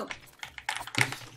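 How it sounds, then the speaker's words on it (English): Close, quick clatter of computer keyboard typing during a Boomerang Fu game session, irregular bursts of keystrokes with brief pauses, fairly quiet and with no voices. "Hearing the keyboard."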